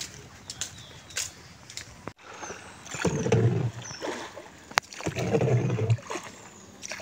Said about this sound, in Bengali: নৌকা চালাচ্ছি, আরাম পাচ্ছি, ভালো লাগতেছে এখানে